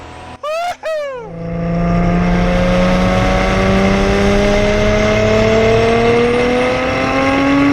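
A modified 1995 Nissan Skyline R33 GT-R with a straight six accelerates hard, its engine note climbing loud and smooth inside the cabin after a couple of brief gearshift-like chirps at the start.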